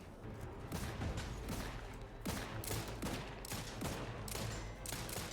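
Weapons fire at robots in The Outer Worlds 2 comes as a dense, steady string of rapid shots with sharp repeated cracks. The gunfire is fairly quiet and fills the whole stretch without voices.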